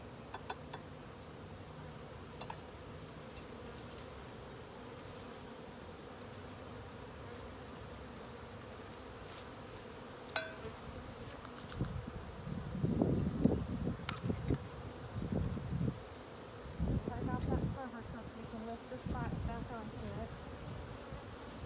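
Honeybees buzz in a steady, close drone during a hive inspection, with frames being handled. Occasional knocks and faint low voices sit under the humming swarm.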